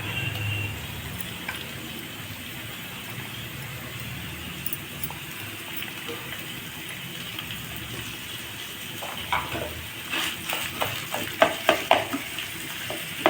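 Steady, fairly quiet sizzling of chicken mince frying in a pan with carrots, with a few louder crackles and stirring scrapes near the end.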